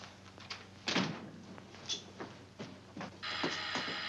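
A back door opening in an old comedy scene: a few wooden knocks and thunks, a latch click and a sliding, creaking movement, fairly close and quiet.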